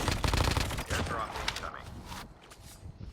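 Rapid automatic gunfire from the mobile shooter Call of Duty Mobile rattles loudly, then fades into scattered shots and quieter game noise, with a voice faintly present.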